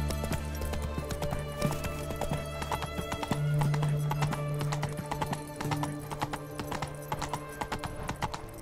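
A horse galloping and neighing in a video game: rapid clip-clop hoofbeats run throughout, joined by a drawn-out whinny midway, loud and near with game music beneath.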